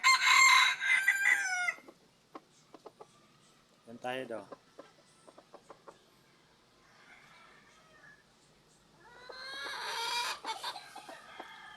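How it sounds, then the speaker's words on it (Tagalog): A rooster crows loudly nearby, then a person talks briefly over quieter farm sounds before another long, strident crow rings out. "maganda rin tilaok nito"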